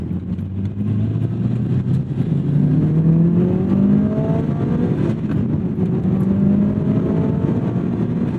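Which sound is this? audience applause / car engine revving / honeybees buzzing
car engine revving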